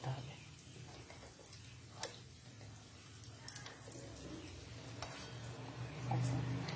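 Food frying in oil poured through a strainer, a faint continuous sizzle with light stirring and occasional clicks, quiet and steady throughout.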